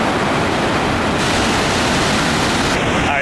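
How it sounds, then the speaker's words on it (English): Thundering roar of Dettifoss waterfall in Iceland, one of Europe's largest, a loud, steady broadband rush of falling water filling the whole clip with no let-up. "We're at Dettifoss, which is apparently the second largest waterfall in Europe."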